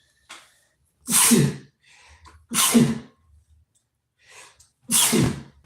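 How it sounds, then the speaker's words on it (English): Three loud, sharp sneezes spaced a second or so apart, each preceded by a quick inhaled breath, with faint shuffling between them. "I got to sneeze"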